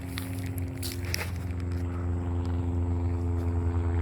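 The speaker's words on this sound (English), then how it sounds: "look, there goes an airplane." Airplane passes overhead outdoors as a steady low drone that swells slightly, with a few faint knocks and rustles near the microphone.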